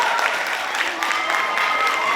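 Audience applause for an award winner at a spoken word event, a steady patter of clapping from a crowd, moderately loud and continuous with faint voices mixed in.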